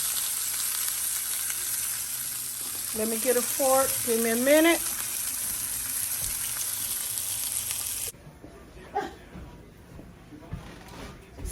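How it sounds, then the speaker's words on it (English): Steady sizzling of meat frying in a hot pan, with a person speaking briefly over it before the sizzle quiets. "And our steak is frying."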